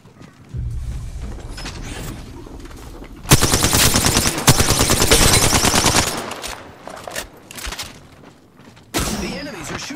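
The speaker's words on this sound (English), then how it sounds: "The enemies are shooting at me." Rapid automatic gunfire in the Apex Legends video game comes in a sustained, loud burst of close shots, then a further burst follows, with game sounds and a voice in between.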